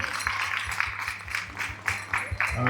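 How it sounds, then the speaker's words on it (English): An audience at a school graduation ceremony claps steadily in a brisk, even rhythm, the sharp claps repeating about four times a second over a low hum. "can we just first just clap for the management of this school? Can we clap for them?"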